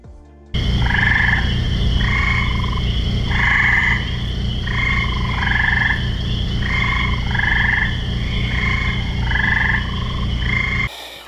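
Eastern gray tree frogs calling at night around a swimming pool at a carnivorous plant nursery, loud repeated trilling calls in regular bursts, several overlapping, close by against a steady background hum.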